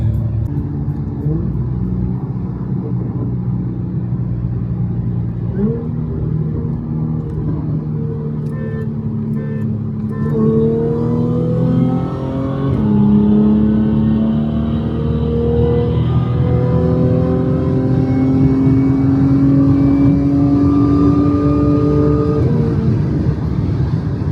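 Two Audi S4s race, their engines revving and accelerating hard in rising, stepped gear pulls, loud and steady throughout, with a second engine's climbing tone joining midway over a constant rumble.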